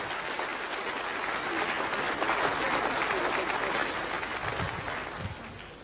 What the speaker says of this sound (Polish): brawa dla Sala.